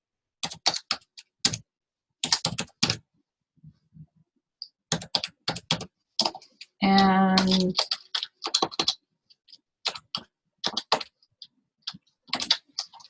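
Bursts of clicky keyboard typing come in quick clusters separated by pauses, with a brief tonal beep partway through.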